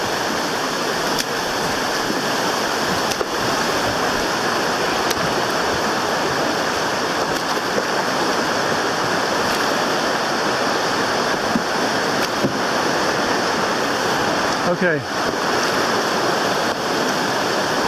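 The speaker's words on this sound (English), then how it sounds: "keep the boat pointed downstream when you hit the white water." White water rapids on the Potomac River roar steadily and loudly from start to finish, a dense unbroken rush of water heard from a boat, with a single brief spoken word and a short faint sweep near the end.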